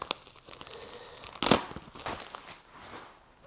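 Cardboard and plastic packaging from an eBay parcel being sliced and torn open with an X-Acto knife, with crinkling and a sharp tearing burst partway through, close up.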